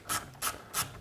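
Ratchet turning an inverse Torx E4 socket to back out a combination switch screw on a Dodge, Chrysler or Plymouth 2.7L, giving three short, evenly spaced bursts of close clicking.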